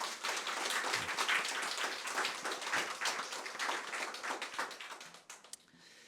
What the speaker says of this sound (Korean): 이 일을 위해 수고하신 모든 교우님들, 또 우리 자랑스러운 우리 세민족교회를 위해 같이 박수를 한번 보낼까요?